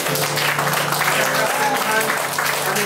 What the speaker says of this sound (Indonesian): Mari kita memuji Tuhan dengan memberi tepuk tangan.